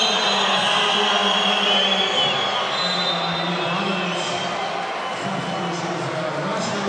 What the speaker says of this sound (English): And now listen to the reaction of the home crowd.